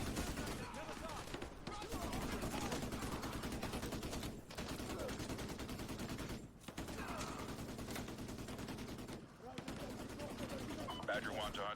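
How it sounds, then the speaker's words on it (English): Sustained gunfire from a Call of Duty Modern Warfare 2 Remastered firefight, a dense continuous barrage with brief pauses, loud and close, with someone talking over it. "Shoot them full of all the bullets"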